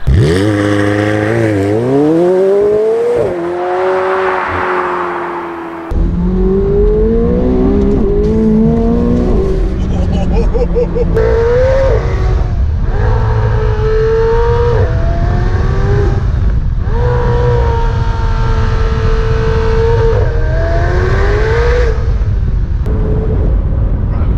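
A McLaren 720S accelerates hard from inside the cabin, its engine note rising loudly through repeated gear changes that each cut the pitch briefly before it climbs again.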